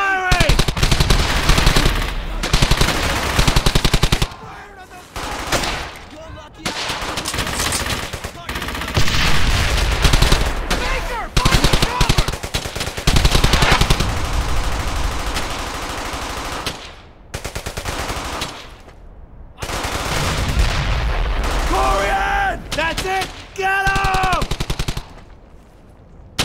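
Bursts of automatic machine gun fire in the World War II video game Brothers in Arms: Hell's Highway, loud and repeated in long volleys with short gaps, while soldiers shout over the fighting.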